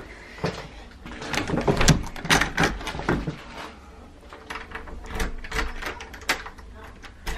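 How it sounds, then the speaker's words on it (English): A front door at home being opened and locked repeatedly, heard as a series of close knocks, rattles and latch clicks with quiet gaps between them and no clear talk. "I have to keep locking the front door because he keeps opening the front door."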